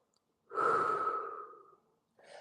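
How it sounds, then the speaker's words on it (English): A single deep breath drawn during a stretching exercise, close and clear, a long airy inhale lasting about a second, then a pause and the start of another breath. "just take another deep breath here"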